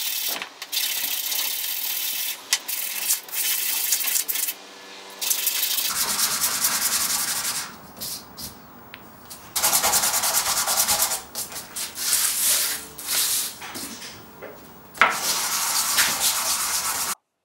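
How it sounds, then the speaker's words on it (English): Sandpaper rubs steadily against a small wooden box turned on a lathe, a loud close-up hiss in long continuous passes broken by short pauses, with no talking. "Time for some sanding."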